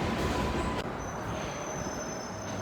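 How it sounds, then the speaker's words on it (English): A train slows to a stop, its wheels squealing in long high metallic tones over a steady rolling rumble, close and loud. "Sorry, I had to wait for the train to stop."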